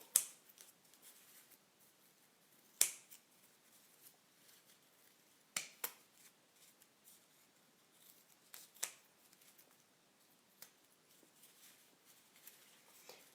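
Scissors snip folded toilet paper to shape a paper flower, producing sparse crisp cuts, a few sharp and close, separated by quiet pauses and faint rustling.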